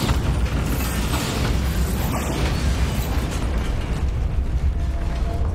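A Bombarda spell explosion in Hogwarts Legacy sounds as a loud, rumbling burst blended into continuous heavy combat noise, with no talk.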